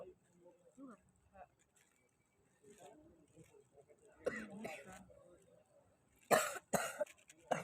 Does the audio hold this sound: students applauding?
no